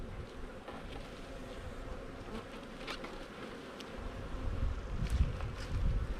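Honey bees in a queenless colony buzz in a steady, close hum, with a low rumbling thump near the end.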